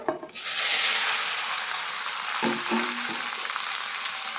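Jujubes (kul) drop into hot oil already crackling with five-spice seeds for a sweet-sour pickle, setting off a loud, bright sizzle that stays broad and steady, with light stirring knocks midway.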